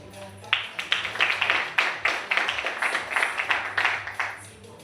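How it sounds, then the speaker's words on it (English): An audience claps after a manifesto launch speech for an engineers' institution presidential candidate, producing a rhythmic run of close, even claps that swells briefly and then fades. "A round of applause once more."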